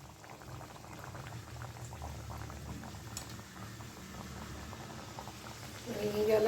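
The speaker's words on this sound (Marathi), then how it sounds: "आणि याला छान गोल्डन रंग येईल तोपर्यंत आपल्याला या तळून घ्यायच्या आहेत कचोऱ्या." Kachoris stuffed with pigeon peas fry in hot oil until golden, making a continuous bubbling, boiling fizz at moderate level that swells slightly toward the end.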